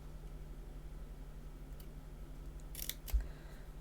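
Scissors cut a photo card in a few faint, quick snips, quiet and close against low background hum.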